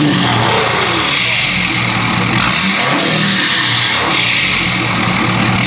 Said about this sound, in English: I'm gonna give her a hard rev.